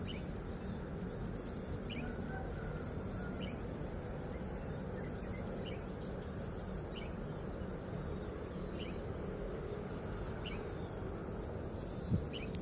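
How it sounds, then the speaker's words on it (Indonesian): Birds chirp outdoors on a clear morning at a football field, short repeated calls scattered throughout over a steady, dense background of insect or cricket buzzing. "Burung-burung berkicauan."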